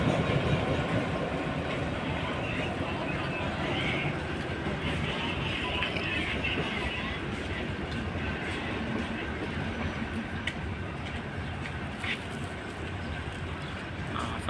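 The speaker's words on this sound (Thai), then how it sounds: "รถจักรที่ทำขบวน212มานะครับมาเปลี่ยนหัวรถจักรที่นี่นะครับ" A diesel locomotive and train cars roll steadily through Bang Sue station in Thailand, a continuous broadband rumble with faint rhythmic clatter of wheels throughout, fairly close and loud, with no talk.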